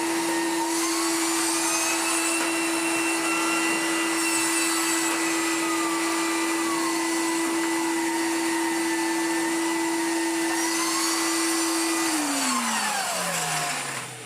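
Corded commercial vacuum cleaner fitted with an electric turbo head, running with a loud, steady motor whine close by throughout, then spinning down as it switches off at the end.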